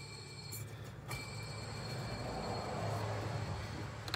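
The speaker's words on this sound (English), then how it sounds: "especially like the idler. Making a little noise while it's spinning." A worn idler pulley bearing on a GMC Envoy with the Vortec 4200 4.2L engine, squeaking faintly as it spins beneath a steady, noisy running-engine hum.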